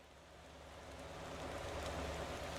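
Rain falling in the driving game Motor Town, a steady, dense hiss of drops that swells slightly louder partway through, soft and even with no voices.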